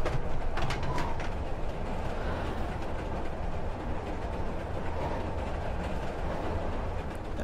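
Trains in the horror video game Layers of Fear: Inheritance give a steady, moderately quiet rolling rumble with faint clickety-clack rhythm throughout.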